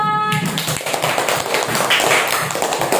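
A classroom of students claps for group 1 after a story presentation, a lively burst of dense, fast clapping that stays loud for the whole stretch.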